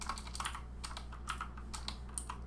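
Fast, irregular key clicks from a computer keyboard, typed close by in a quiet room over a steady low hum, with short bursts and pauses between keystrokes.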